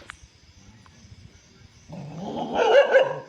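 Village dogs are quiet at first, then break into a short burst of close, loud barking and growling in the last second or so.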